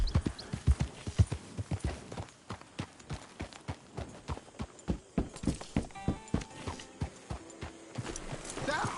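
Horse hooves clip-clop steadily in Red Dead Redemption 2, a rapid even walking rhythm of sharp close knocks across the whole stretch, with a few tonal game sounds near the end and no talk.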